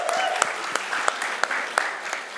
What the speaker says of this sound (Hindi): पर मनोज के लिए तालियां तो बनती है यार।